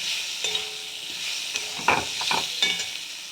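Spices frying with red chili and turmeric powder for a tilapia fish chorchori, a close sizzle broken by scraping stirring strokes that come in irregular bursts, with no talk over it.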